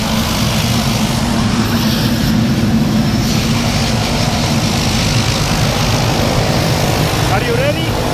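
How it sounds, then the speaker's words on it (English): A small propeller plane used for a tandem skydive jump, its engine droning loud and steady at close range for the whole stretch, with voices faintly audible over the roar. "Our plane is landing right now"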